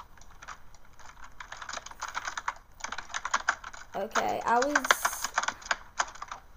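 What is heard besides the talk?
rapid typing on computer keyboard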